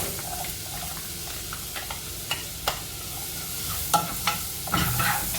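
Chopped onion fries in about 50 grams of melted butter in a pan for mushroom soup, a steady close sizzle with occasional stirring scrapes and clinks, no voices.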